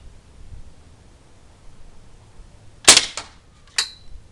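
A pellet gun fires at a bullseye target: one sharp crack followed by a short rattling tail, then a second brighter snap about a second later, loud and close in an otherwise quiet setting.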